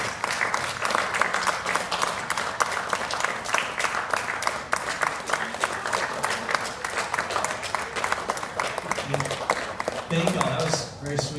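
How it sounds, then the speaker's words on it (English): Morning gathering audience gives a sustained round of applause, dense clapping from many hands filling the room for about ten seconds, with some crowd voices mixed in. "let's give Anna Kate a round of applause"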